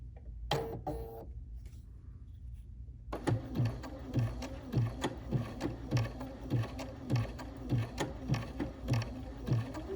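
A sewing machine runs stitch 725 on blouse fabric, its needle knocking in a quick, even rhythm after a few isolated clicks and a short quiet pause at the start, close and clear with no talk.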